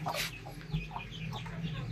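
Chickens clucking softly close by while pecking at a salad feed, a few short scattered clucks over a low background hum.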